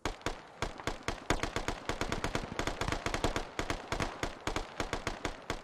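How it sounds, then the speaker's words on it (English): Machine gun fire from an MT-LB armored vehicle in a military video game, sustained rapid loud bursts of shots overlapping continuously with no pause, close and dense. "Even the MTLB's taking shots at Jenkins over here."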